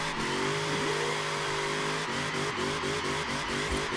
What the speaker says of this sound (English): Oh yeah, we gotta do a burnout first.